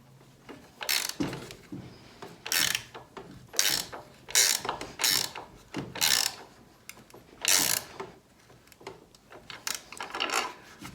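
A ratchet wrench tightens carriage bolts on a worktable sawmill frame, about ten bursts of rapid clicking in an uneven rhythm, close and fairly quiet, with no talking.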